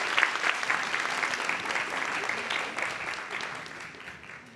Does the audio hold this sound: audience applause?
yes